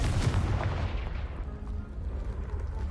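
A Confringo spell explosion in the video game Hogwarts Legacy: a loud, close booming blast with a rumbling low body that decays over a few seconds into a fading rumble.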